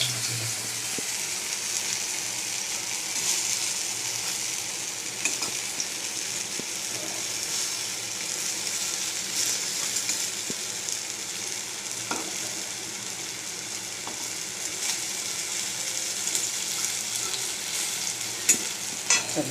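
Pea lentil fritters (bora) sizzle steadily in hot oil in a home kitchen, a continuous bright hiss with occasional clinks of a utensil stirring, heard alone without talk.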